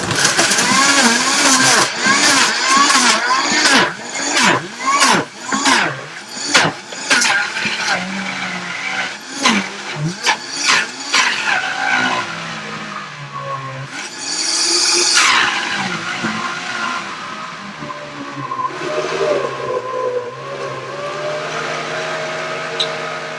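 A Vitamix blender whirs through a milk mixture, its motor pulsing in rapid surges before settling into a steady high roar, loud and close.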